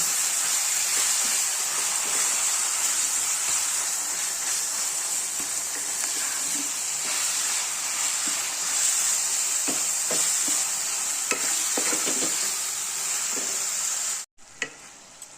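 Mutton keema sautéing in a pan, a steady bright sizzle with soft stirring scrapes throughout, then an abrupt stop near the end; no talking.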